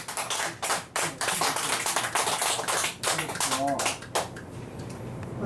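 Elderly people at a senior center clap their palms together as an exercise, giving a run of sharp, fairly even claps with brief pauses, heard over talk in the room.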